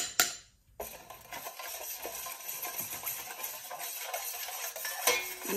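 Incense mixture of hot oil and benzoin being stirred in a pot, giving soft scraping and clinking of a utensil against the metal over a steady background hiss, with one sharper knock near the start.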